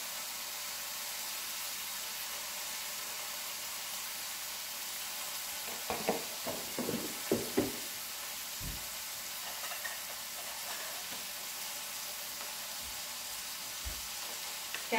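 Tomato chutney ingredients with turmeric sauté in a pan, a steady close sizzle throughout, broken midway by a cluster of stirring clacks and scrapes and a few later knocks, without any talking.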